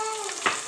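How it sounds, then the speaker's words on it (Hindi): Tomatoes and green chilies hit a hot pot with garlic, giving a short sizzling hiss with a brief splashy burst midway, close and fairly quiet. "बस अब हम लोगों ने इनको अच्छे तरीके से फ्राई करना है टमाटर को"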